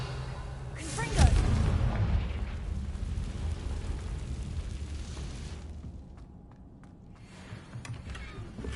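A Confringo blasting spell in a Harry Potter video game goes off as a single sharp blast early on, then a rumbling tail fades into quieter game ambience.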